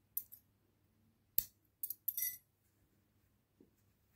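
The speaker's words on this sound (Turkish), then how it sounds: "Burada kesiyoruz." Scissors snip through yarn while a daisy keychain is being made: a few sharp, close metallic clicks and cuts come in small clusters with quiet pauses between them, and nobody speaks.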